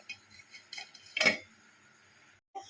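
A lid goes onto a cooking pot of chicken curry with one sharp metallic clank and a brief rattle, close and fairly quiet, followed by a short clatter a moment later.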